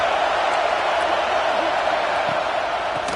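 Stadium crowd in a college football video game cheering during a big third down in the red zone, a steady, dense roar that holds evenly throughout without breaks.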